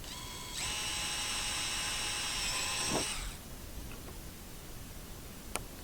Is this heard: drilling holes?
yes